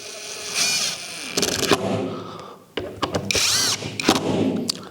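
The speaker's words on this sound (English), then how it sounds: "So I just push that in and screw that in place." A screw being driven with a drill to fix a part in place on a battery charging and storage station: short whirring bursts broken by pauses and mechanical clicks, close and fairly loud.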